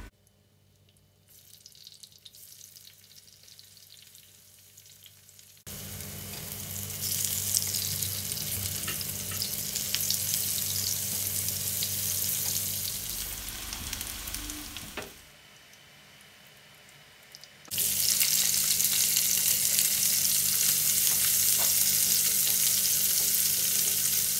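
Oil sizzles and crackles loudly as tempeh fries, the hiss swelling and dropping as the pan is handled, then surging back strong.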